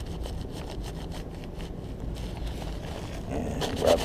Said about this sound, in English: And then I'll just kind of rub it a little bit.